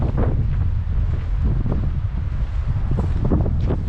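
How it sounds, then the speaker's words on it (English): Strong wind gusts buffet the microphone at a mountain lake, a steady loud rumbling roar with no one talking. "This lake is always so windy."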